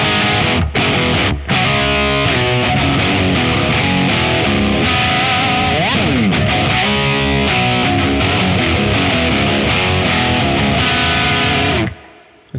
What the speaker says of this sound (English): now let's try the Kraken. So let's move over, and we're on the first channel.